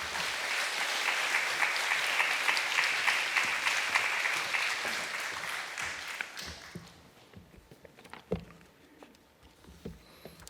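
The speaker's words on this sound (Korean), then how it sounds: "우리 목사님 나오실 때 박수로 환영하시겠습니다." A church congregation at a Korean worship service applauds to welcome the pastor, with steady, dense clapping filling the room for about six seconds before fading into scattered claps and quiet room noise.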